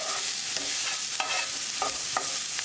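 Onion fries with ginger and garlic in a pan while being stirred, a constant sizzle punctuated by quick spatula scrapes and clicks at close range.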